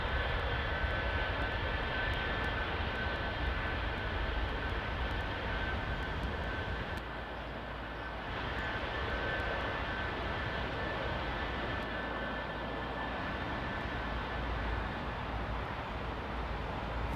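A close-up aircraft landing on Heathrow's runway 09R makes a steady, broad jet engine roar. It holds throughout with a brief dip midway, and no one speaks.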